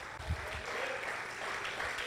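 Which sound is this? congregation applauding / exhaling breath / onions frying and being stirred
congregation applauding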